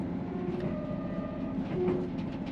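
A passenger train running on the Far North Line in the Scottish Highlands heard from inside the carriage, a steady low rumble and rattle with faint tonal whines, moderately quiet and continuous, no talking.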